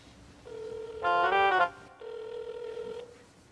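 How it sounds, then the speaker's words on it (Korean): A telephone rings on an outgoing call placed from a Korean TV studio show, with two ringback tones in steady, evenly spaced bursts, clear and moderately loud against a quiet background. "저도 좀 연세가 계신 분들한테 전화 한번 해보겠습니다"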